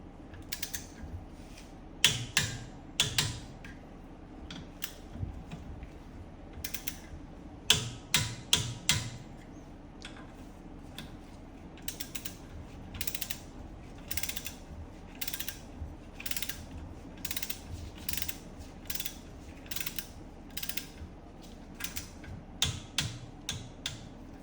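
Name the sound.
torque wrench tightening wheel studs on Porsche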